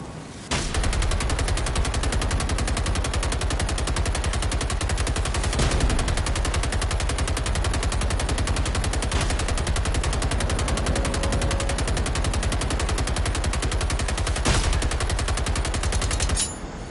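Sustained automatic fire from a light machine gun in a video game, a long unbroken stream of rapid, evenly spaced loud shots with a few heavier impacts, running almost the whole time before stopping abruptly at the end.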